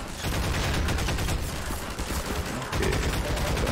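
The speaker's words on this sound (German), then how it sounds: "Auf die Metalltür schießen." Gunshots fired at a metal door in the video game Half-Life 2, a loud continuous volley of rapid shots with a brief dip before another burst.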